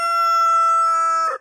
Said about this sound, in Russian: Куры у меня здесь ходят,